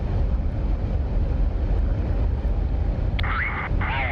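Jet fighter taking off on afterburner in the DCS flight simulator, a loud continuous roar with wind-like rushing throughout and a rising whine near the end.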